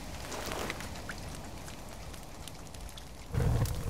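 Steady rain falls in the survival video game The Forest, a constant soft hiss of drops that swells briefly with a deeper rumble near the end.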